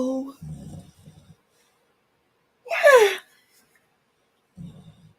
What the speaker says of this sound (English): That yawn snuck up on me.